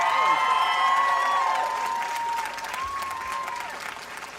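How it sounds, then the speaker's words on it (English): Concert crowd applauding for Ashton at a live show, a dense, steady wash of clapping with a few scattered cheers and whoops, fairly close and loud, slowly easing off over several seconds. "Round of applause for Ashton, everyone."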